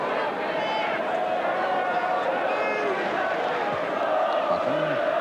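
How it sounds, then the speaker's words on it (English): A football crowd at an Arsenal v Manchester United match in 1981-82 murmurs and rises in a steady, dense roar from the stands, continuous throughout with a brief swell near the end. "I think the crowd appreciating that little bit of positive action"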